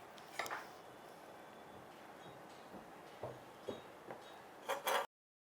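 A vanilla sponge cake sliced with a knife, faint and close, with occasional light clicks of the blade against a plate or board and a small clatter just before it falls silent.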